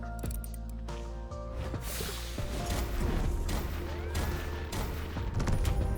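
Game explosions in the puzzle game Cal & Bomba, a dense burst of crackling blasts and clattering debris that keeps rumbling on over several seconds, with smaller pops scattered through it.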